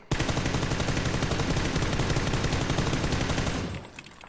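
M4 rifle fire at a PUBG firing range in a video game: a long rapid automatic burst of sharp, evenly spaced shots, loud and close, cutting off near the end with a brief tail.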